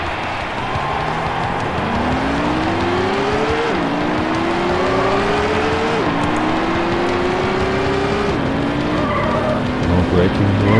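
A race car in Need for Speed: High Stakes drives flat out at full throttle, its engine whining up through the gears in repeated rising sweeps and shifting down between them, loud and continuous with tire noise underneath.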